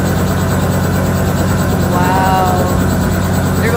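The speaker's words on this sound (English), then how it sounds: "so just to kind of bring it back to Mozzie, we heard you came to Phoenix in a helicopter." A loud helicopter arriving in Phoenix, heard alone and close: steady rotor thumping under a constant, heavy engine roar that continues throughout.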